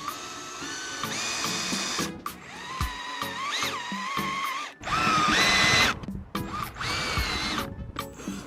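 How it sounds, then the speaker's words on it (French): A power drill whines repeatedly while drilling out rivets on the roof of a camper van, several bursts separated by brief pauses, loud and close with no talk. "je vais faire ça à l'aide d'une perceuse"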